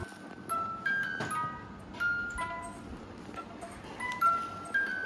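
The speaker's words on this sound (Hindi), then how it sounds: "म्यूजिक बॉक्स ये है जैसे" A music box picks out a bright tinkling tune, its plucked notes ringing in a light, uneven rhythm over soft background noise, fairly close and clear.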